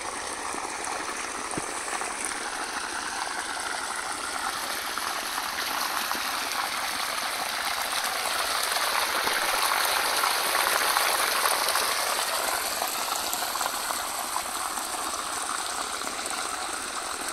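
Canal water runs steadily into the furrows of a papaya field under drip irrigation, a continuous close rushing and trickling flow with a slight swell midway and no voices.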